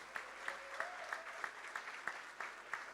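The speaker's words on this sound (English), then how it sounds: "Will now be felicitated by the Honorable Governor with a big round of applause." A round of applause at a state foundation day ceremony as the Governor felicitates an essay competition winner, with a rhythmic, fairly distant clapping marked by regular sharp beats.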